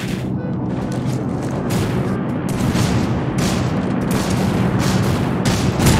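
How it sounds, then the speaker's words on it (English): Bombing in the battle royale shooter Rules of Survival, a continuous loud barrage of booming explosions and rumbling blasts, dense and close throughout. "Oh my god, you're bombing me."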